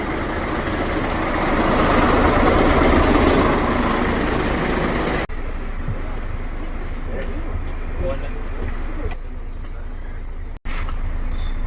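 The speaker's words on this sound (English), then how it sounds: "Volvo B10M city bus." A Volvo B10M city bus with an Alexander PS type body idles at a bus garage, its horizontal under-floor mid-mounted engine giving a steady low rumble. The rumble swells briefly, then continues more quietly with faint background noise.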